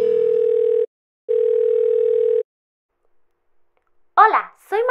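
Two long steady telephone call tones, each roughly a second or more with a pause between, loud and close; a cartoon voice begins speaking at the end.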